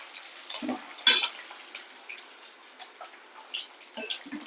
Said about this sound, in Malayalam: കുറച്ച് വേർക്കടല അത് ഇട്ട് കൊടുക്കാം നന്നായി ഇളക്കി കൊടുക്കാം